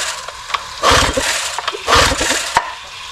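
An old Johnson or Evinrude outboard motor cranking over without catching, two bursts of rapid chugging turnover separated by quiet pauses and a few clicks, close and fairly loud.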